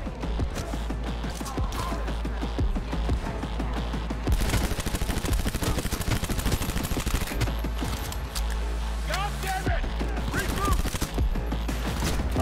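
Dense, continuous gunfire in the video game Cyberpunk 2077, with rapid repeated shots and bursts, loud and sustained across twelve seconds amid other combat noise.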